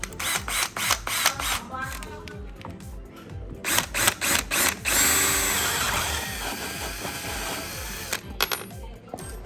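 A power drill fitted with a 28 mm hole saw whirs in repeated short bursts, then runs in one longer steady grind before stopping, with a few more brief pulses near the end.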